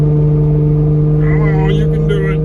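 A Plymouth Prowler's engine pulls hard under acceleration, a loud, steady droning hum that climbs slightly in pitch as it revs, with faint overtones rising toward the end.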